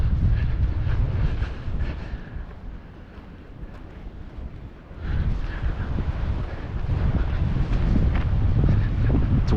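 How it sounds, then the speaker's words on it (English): Strong wind on the coast at Point Loma, Cabrillo National Monument in San Diego, roaring steadily across the microphone with surf rumbling underneath, easing slightly midway before gusting again. "It's windy."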